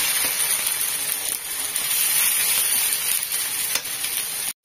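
Food frying in hot oil makes a loud, continuous sizzle close by, with faint stirring under it before it cuts off abruptly at the end.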